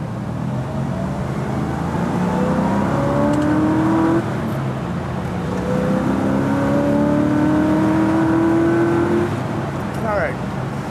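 A 1967 Corvette convertible engine revs up repeatedly, its pitch climbing and falling across several loud, close blips.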